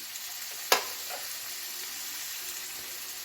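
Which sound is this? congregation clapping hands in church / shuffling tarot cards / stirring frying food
stirring frying food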